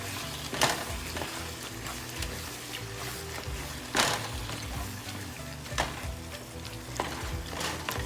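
Ground meat sizzling steadily in a pan while being mashed with a hamburger chopper, with a few sharp scraping knocks against the pan cutting through the continuous frying hiss, close and moderately quiet.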